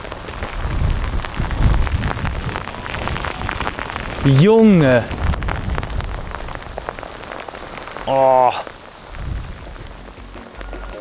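Heavy rain patters loudly and steadily on surfaces outdoors during pike fishing, a dense close hiss throughout, broken by two brief excited vocal exclamations.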